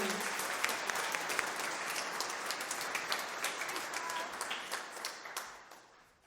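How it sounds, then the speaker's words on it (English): At a high school spring band concert, the audience gives a big round of applause for a most-improved award, a dense burst of clapping with sharp individual claps that tapers off at the end. "One more big round of applause for our most improved."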